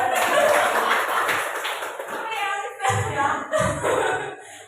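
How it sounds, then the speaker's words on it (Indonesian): Applause from a gathered audience at a school workshop on positive culture, a dense, steady spatter of hand claps lasting several seconds with a few louder bursts near the end, fairly close and filling the room. "Tepuk tangan buat Bu Nur"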